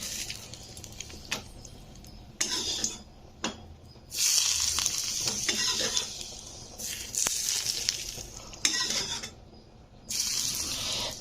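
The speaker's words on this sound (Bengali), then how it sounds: "তো এবারে লঙ্কা আর তেলটা আমি এর মধ্যে দিয়ে দেব।" Fried chillies and hot oil are poured onto mashed helencha greens, giving faint bursts of hissing sizzle in several separate spells, with occasional clinks between them and no talking.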